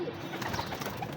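Teddy and pedigree pigeons at a home loft coo softly and steadily in the distance, a faint murmuring burble with no voices.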